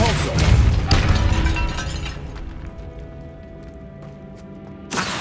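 A Depulso spell cast in Hogwarts Legacy, heard near an altar in a tomb as a loud burst of crashing, shattering impact that fades out over several seconds, followed by another sharp hit at the end.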